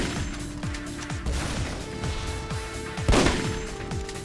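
Rapid, repeated gunfire from the MicroVolts video game, with a series of punchy shots roughly every half second over a busy, continuous game soundtrack, and one louder blast near the end.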